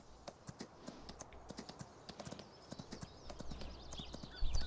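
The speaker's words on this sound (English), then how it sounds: "I'm on a horse right now." Horse hooves clip-clop in Farming Simulator 19 as a steady run of light, rhythmic knocks, with faint background hum and some soft rustling near the end.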